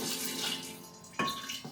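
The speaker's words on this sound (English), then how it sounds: "I'm going to add some water so that everything is underneath" Water poured into a stoneware crock of purple sauerkraut, covering the top weights: a steady splashing pour running over a second, then a brief sharper gush near the end, close and fairly quiet.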